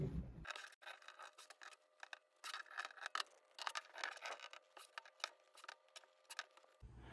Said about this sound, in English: just cut at that distance all the way around your frame